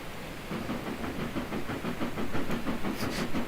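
A steam locomotive in the Trainz railway video game chuffs with a rhythmic hissing exhaust and clickety wheel beat, steady and close, joined near the end by a few higher whistle-like tones, with no talking.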